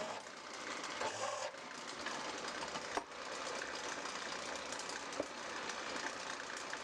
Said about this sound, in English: I always like to chamfer the edges of the drilled holes.